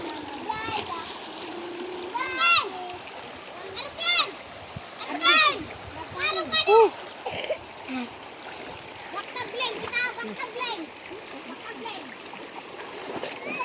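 River water splashing and gurgling in the background while children's voices chatter and call out in short bursts.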